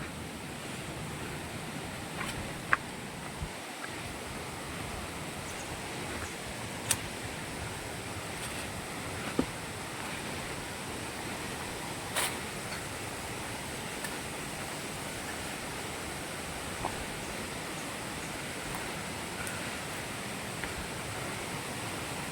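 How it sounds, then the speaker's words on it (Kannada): Mukthi Falls waterfall as a constant broadband rushing roar, steady and moderately distant, with a few faint clicks and bumps nearby. "ಹಾಂ ಅಂತೂ ಫಾಲ್ಸ್ ಕಾಣಿಸ್ತಾ ಇದೆ ಇದು ನೋಡಿ ಇದೇ ಫಾಲ್ಸು"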